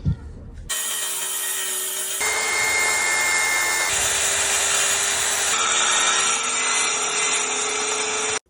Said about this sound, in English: Blade's gonna come down, cut the piece of wood.